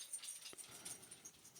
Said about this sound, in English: Sorry, studio dog.